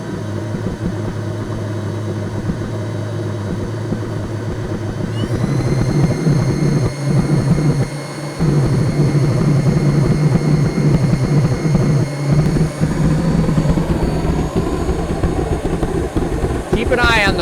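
Homemade hybrid jet engine running on methanol fuel, a loud steady roar that thickens and climbs in pitch as more fuel is fed, with someone talking over it.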